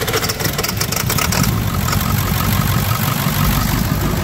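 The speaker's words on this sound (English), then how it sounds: "she's still got this old power smoke, but it sounds cool when you blow it now" A 7.3 Power Stroke diesel truck engine runs steadily close by, a loud, continuous low rumble with a hissing, whooshing layer on top.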